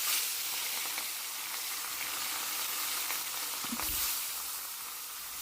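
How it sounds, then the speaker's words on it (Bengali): Fish frying in hot oil in a wok for a Bengali mustard fish dish, a steady broad sizzle running throughout with a brief low thump partway through. "তেল গরম হয়ে গেলে আমি এখন মাছটা ছেড়ে দেব"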